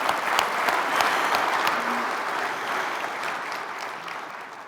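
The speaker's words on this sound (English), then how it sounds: "Let's give yourselves a big round of applause to start today." Sustained round of applause from a large audience of community bankers at an opening conference session, dense and steady throughout before slowly tapering off.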